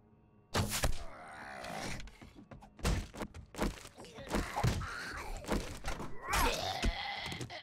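Several heavy thumps of melee hits on a zombie in 7 Days to Die (Alpha 20), landing in an irregular run alongside zombie groans and game noise, loud and close.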